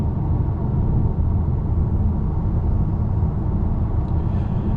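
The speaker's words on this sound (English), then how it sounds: "You really hear the turbo though, which I love." Steady, loud low engine rumble from the turbocharged engine of a 2026 Ford Maverick Lobo while driving, heard from inside the cabin as a continuous drone with no gaps or talk.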